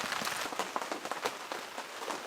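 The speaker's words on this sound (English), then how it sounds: "It's going to be a pain in the butt putting the tent and everything away in the rain" Rain patters steadily on a tent at a campsite in Finlayson Point Provincial Park, a dense, close hiss of drops with small irregular taps and no voices.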